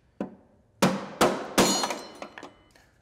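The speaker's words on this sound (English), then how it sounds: "just with a flat screwdriver and a hammer, just tap the little tab down and it falls off onto the drive shaft" A hammer strikes a flat screwdriver to tap down a retainer tab on a snowmobile drive shaft: a light tap, then three sharp metallic blows with ringing tails and a few smaller clinks, close and without talk.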